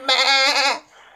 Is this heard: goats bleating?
yes